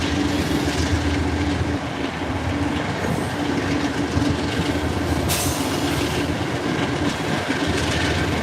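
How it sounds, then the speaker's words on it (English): A train rolls past close by in a steady, loud rumble with rail clatter and rattling wagons sustained throughout, plus a brief bright screech near the middle. "We'll wait till the train passes."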